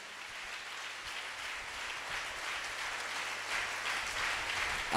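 A congregation claps at a church service, a dense, steady wash of applause from many hands that holds at an even moderate level and swells slightly toward the end.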